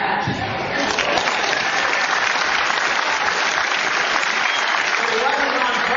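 Audience at the Florida Liberty Summit political gathering bursting into loud, sustained applause and cheering, a dense, even roar of clapping that fills the whole stretch.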